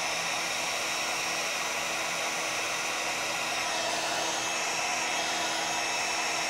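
A heat tool blows steadily to dry gold embossing powder on a paper butterfly, its broad whooshing hiss staying constant and close for the whole span with no talking.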